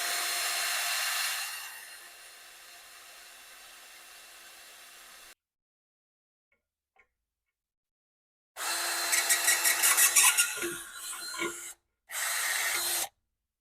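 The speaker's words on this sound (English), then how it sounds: "We'll need to drill one of those out in order to get our socket onto this bolt right here." A power drill bores out a rivet on a Kawasaki Mule UTV during a starter replacement, whirring loud and steady, dropping out to near silence, then returning in two close bursts with a strained, grinding pitch.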